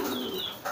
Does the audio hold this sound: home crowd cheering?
no